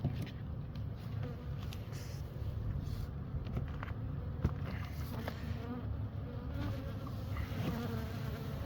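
Honey bees buzz steadily around an open beehive at a colony check in autumn, a continuous low droning hum with individual bees passing close, quiet and unbroken, with no talk.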